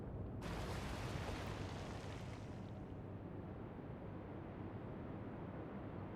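A torpedo strikes a warship in the naval game Atlantic Fleet, landing as a sudden heavy blast that swells into a long rumbling roar and slowly fades, with no voices over it.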